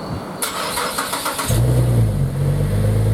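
Car engine, freshly serviced, cranking with a whirring starter and then catching into a loud, steady low idle rumble close by, with no talking.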